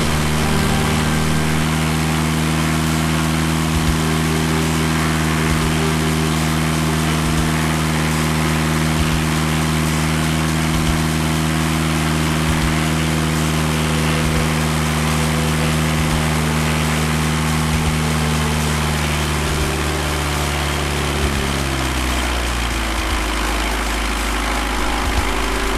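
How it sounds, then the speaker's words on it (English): Aircraft engine on a first flight fitted with SmartPlugs runs steadily at full throttle, a loud, even drone with a regular pulsing beat that shifts and drops near the end, with no talk over it. "Listen to the full throttle power. It is smooth, reliable,"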